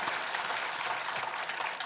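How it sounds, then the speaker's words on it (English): Audience applause at an evening science talk about the Cerutti Mastodon, a soft, even patter of many hands clapping at moderate distance, sustained for about two seconds without voices. "just a round of applause for"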